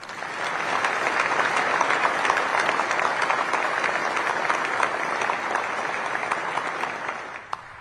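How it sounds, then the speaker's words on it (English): Sustained applause from a ceremony audience honoring the U.S. Space Command workforce, a dense steady wash of clapping that swells and holds for several seconds before tapering off near the end. "round of applause."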